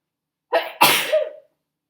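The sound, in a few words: sneeze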